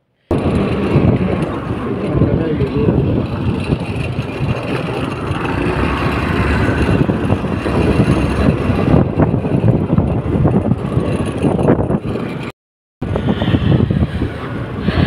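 Steady roar of a motorbike ride with heavy wind buffeting the microphone, continuous and loud, cutting out briefly near the end.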